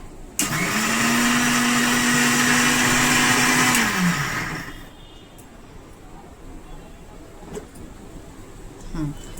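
A mixer grinder blends beans into a soup base, running as a loud, steady, high whir for about four seconds before spinning down and stopping, leaving a quiet room.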